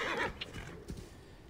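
A horse in the video game Assassin's Creed Origins whinnies loudly, a drawn-out neigh that fades, followed by a couple of soft snorts or hoof sounds.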